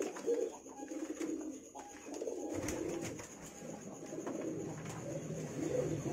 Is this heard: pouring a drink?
no